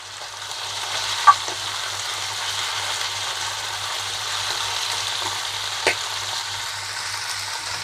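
Chicken fries with lightly browned onions in a pan, a steady close sizzle throughout with a couple of soft stirring knocks and no talk.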